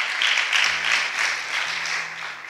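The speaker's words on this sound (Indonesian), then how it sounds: "Tepuk tangan dulu buat Tuhan Yesus." A church congregation applauds in a short, steady burst of massed clapping that fills the room at an even level, with no voices over it.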